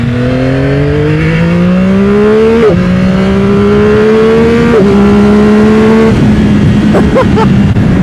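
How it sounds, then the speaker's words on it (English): Yamaha R9 motorcycle engine, 2025 model, pulling hard through the gears in three rising sweeps with brief shift dips between them, loud and close, with no talking. "I'm sure that the engine sound is not really coming through on the GoPro here, but it does not sound bad at all."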